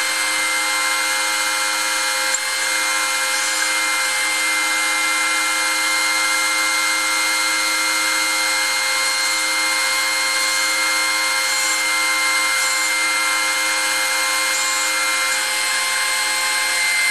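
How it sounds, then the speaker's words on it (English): A power drill bores holes through timber for a covered bridge build, its steady high whine continuous and close throughout, with no talk. "I got one more hole to drill in this."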